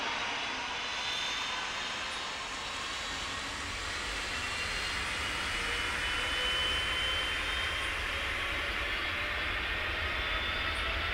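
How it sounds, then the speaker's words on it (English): Boeing 787-9 jet in the Tower Simulator 3 game, its engines roaring steadily and evenly through a takeoff roll, loud and continuous with a broad hiss and low rumble, no voices. "here they go. This one's a Boeing 787-900"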